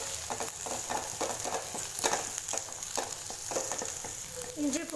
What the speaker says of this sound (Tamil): இஞ்சி பூண்டு சேர்த்துட்டு வதக்கியாச்சு ஃப்ரெண்ட்ஸ்.